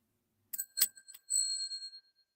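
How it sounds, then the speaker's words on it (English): A small handheld bell, like a bicycle bell, rings in a few quick dings followed by a longer sustained ring that fades out, bright and close against silence. "I got a bell."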